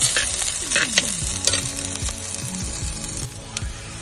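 Curry leaves crackle and spit in hot oil in a pan for a Kerala fish and ridge gourd thoran, with a spoon scraping and stirring through a bright, continuous sizzle, close and fairly loud, no voice.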